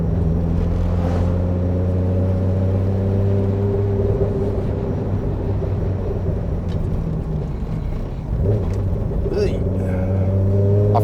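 A high-horsepower Toyota Supra drives along at a steady pace, its engine and exhaust giving a loud continuous drone with a brief dip in the middle, heard from inside the car while a voice speaks over it.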